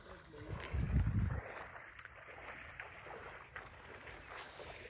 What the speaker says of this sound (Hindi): इसको हम बोलते हैं देसी राफ्टिंग।